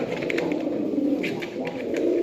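Active running pigeons, a pair of tumbling birds, coo softly and repeatedly close by in a short continuous stretch.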